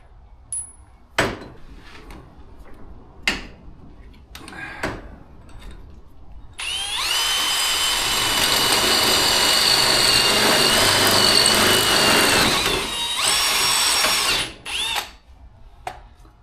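Power drill opening up holes with a 25/64 bit while fitting a 6-inch lift kit to an EZGO golf cart: a few short clicks and bumps, then a loud, high whine running about seven seconds, briefly dipping near the end before stopping.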